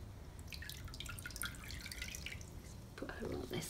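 Water trickles and drips quietly while a guinea pig is rinsed during a bath, a soft splashing over a faint background with a voice murmuring now and then.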